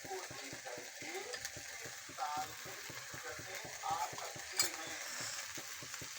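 Green leafy vegetable bhaji stir-fried in a pan with chili powder and salt, a steady sizzle under rhythmic scraping and stirring strokes of a spatula, close and continuous.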